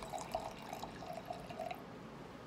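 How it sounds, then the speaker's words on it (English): Wine pours into a glass in a quiet, steady trickle of liquid lasting a couple of seconds, soft and close, with no talking. "Let me pour a little bit more"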